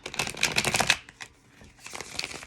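A brisk riffle of tarot cards being shuffled up close, a burst of quick flutters, a short pause, then another softer riffle.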